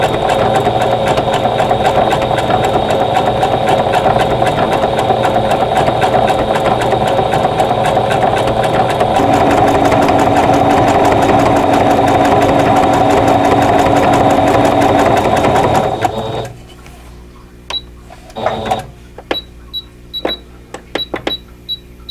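An embroidery machine sews a large stitch on a Christmas cottage block, a steady loud mechanical whir and rapid clatter running continuously before stopping abruptly, followed by a few faint clicks and taps.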